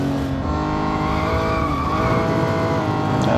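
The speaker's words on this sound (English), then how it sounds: "Skidding through Tête Rouge, don't do that." A Honda NSX-R in the Real Racing 3 racing game skids through a corner at Spa's Tête Rouge, a loud continuous engine roar blended with tire squeal and skidding noise, sustained throughout with no talking.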